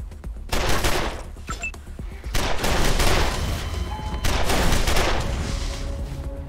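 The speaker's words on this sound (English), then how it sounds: "Oh, the Mad Monk is shooting." Bursts of gunfire from the Mad Monk in the video game Wasteland 2 crackle in rapid, dense volleys, loud and close, with short pauses between salvos.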